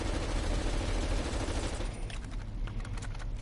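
Rapid automatic gunfire in Call of Duty Cold War multiplayer, a loud, continuous burst of shots that thins into separate sharp cracks toward the end.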